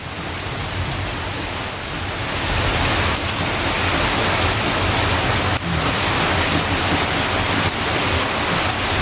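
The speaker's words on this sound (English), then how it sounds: "It's raining, man." Steady rain falls outdoors in a continuous, dense broadband hiss that holds at an even, fairly loud level throughout, with no voices.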